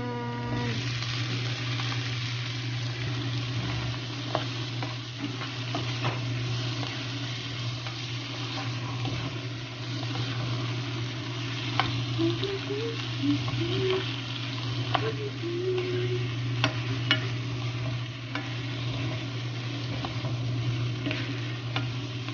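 Chopped tomatoes fry with chicken in a pan, giving a steady close sizzle with occasional stirring scrapes and clinks throughout, and no talking.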